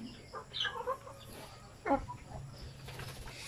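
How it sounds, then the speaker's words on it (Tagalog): Farm-raised chickens about two to three months old give a few short clucks and a coo-like call, fairly faint against a quiet background, with no talk. "Yung ganyang, ganyang klaseng manok."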